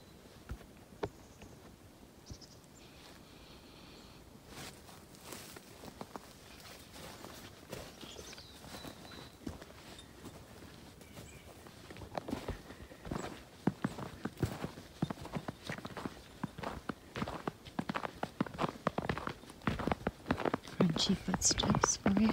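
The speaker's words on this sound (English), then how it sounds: "Crunchy footsteps for you." Footsteps crunch through snow in a crisp wintry outdoor setting, soft and close at first, then growing into a dense run of sharp crunching steps toward the end, with faint whispering.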